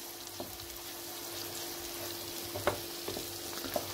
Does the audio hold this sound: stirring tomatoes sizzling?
yes